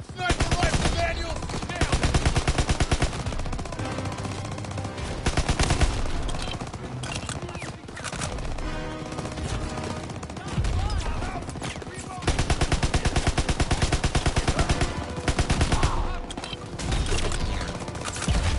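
Heavy gunfire in Call of Duty WWII, long bursts of rapid machine-gun fire alternating with shorter volleys and brief lulls, loud and close with shouted voices over it.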